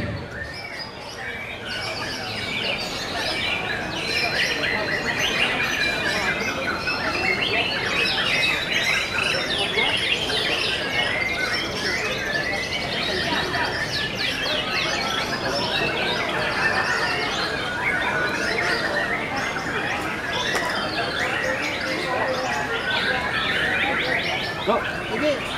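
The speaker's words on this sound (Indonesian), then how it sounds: "Murai Batu Superstar B" Competition white-rumped shamas sing at a bird contest arena, a dense, continuous chorus of bright chirps, whistles and trills from several birds, with faint talk in the background.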